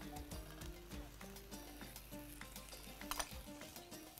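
Vegetables with minced garlic and peas fry in a pan, giving a soft, steady sizzle with light stirring and clinks of a utensil against the pan, fairly quiet throughout.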